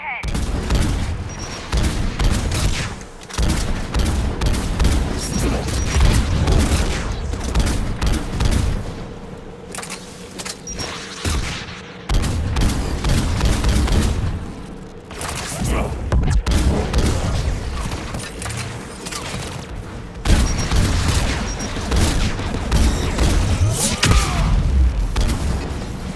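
Anti-aircraft guns in the video game Mass Effect 3 fire in loud, sustained bursts of booming gunfire with heavy thuds, nearly continuous across the scene, with brief lulls between volleys and battle noise throughout.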